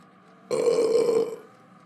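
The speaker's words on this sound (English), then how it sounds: "When you start burping at the dinner table, say excuse me." A single loud, close burp at a dinner table, about a second long, rising suddenly out of near silence and fading quickly, with no talking over it.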